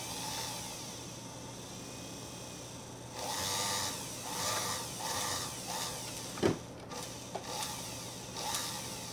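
The motor of a Singer Featherweight 221K sewing machine runs roughly, a faint whirring drone that grows louder and uneven partway through, with scraping, grinding texture and a couple of sharp knocks near the end.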